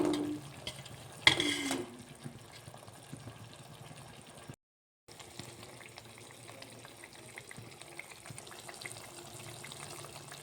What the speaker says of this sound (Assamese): দৈখিনি এড কৰাৰ পিছত আৰু অকণমান পানী দি ভালদৰে উতলিবলৈ দিম।